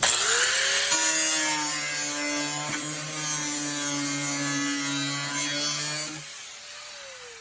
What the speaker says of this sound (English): take your cutoff wheel, grab the plastic right here, and we're just gonna make a cut just down like that